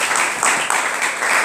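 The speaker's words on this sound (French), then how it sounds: "Il faut bien qu'on applaudisse pour mon Seigneur." Applause for the Lord at a French-speaking Marian devotional gathering, a steady dense wash of clapping from a crowd that swells slightly partway through and holds level for a brief moment, with no voices over it.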